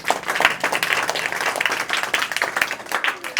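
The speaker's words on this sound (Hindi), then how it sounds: "काफी शानदार जवाब के लिए जोरदार तालियां होना चाहिए।" A classroom of students applauds a correct math answer, brisk uneven hand clapping from a small group close by, lasting a few seconds.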